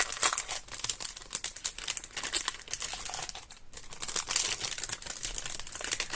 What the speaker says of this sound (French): J'ai également acheté les die cuts de la collection, donc on va les ouvrir ensemble.